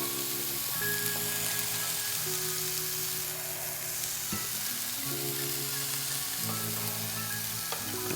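Oyster mushrooms sizzle and brown in a hot pan, a steady close frying hiss that runs unbroken throughout, with a low humming tone underneath and no one talking.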